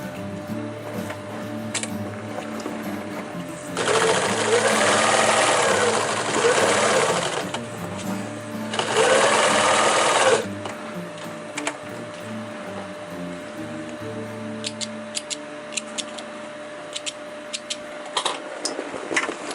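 A sewing machine stitches twice-folded fabric on a 50L roll-up backpack. It runs in two loud bursts of rapid stitching, each a few seconds long, with quieter handling noises between and after them.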